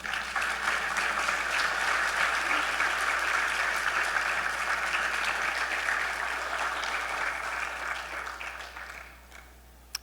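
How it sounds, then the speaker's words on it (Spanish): A church congregation bursts into sustained applause during a Sunday service, dense steady clapping that holds strong for most of the stretch before thinning and fading near the end, with no voices over it. "denle un aplauso al Rey"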